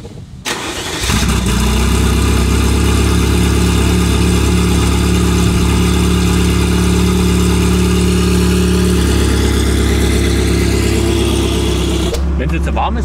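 A Ferrari F40 engine starts and then runs at a steady, loud idle with a deep rumble and a whirring hum, close by, before cutting off.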